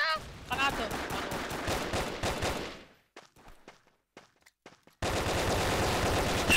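Rapid video game gunfire from Brickforce rattles in quick bursts, stops into a near-silent gap with a few faint taps, then resumes loudly and continuously.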